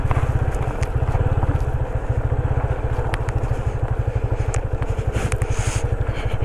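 A motorcycle rides a rough mountain trail in the Zanskar valley of Ladakh, its engine chugging in a rapid, steady low pulse up close, with occasional clatter from the rocky ground.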